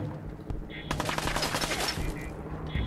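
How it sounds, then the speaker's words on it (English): Fallout 4 gunfight with a burst of rapid automatic gunfire in the middle, flanked by lighter single shots and game ambience, loud and close. "Who else is shooting me?"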